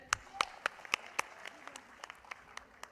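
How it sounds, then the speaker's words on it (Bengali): Scattered individual hand claps ring out from an audience at a stage gathering of journalists' association leaders, sparse and uneven rather than a full roar, each clap sharp and separate. "আমরা একটা হাততালি দেই না এখন, দেখি সবাই মিলে"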